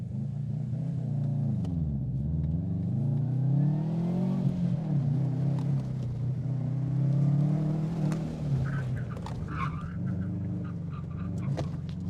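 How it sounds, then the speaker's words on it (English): Rebuilt Subaru WRX launching hard at an autocross event, engine revving and rising through the gears with a loud steady drone, a close rumble dipping and climbing under light rattles, no talking. "Trying to be a little more aggressive on the launch without just murdering my clutch."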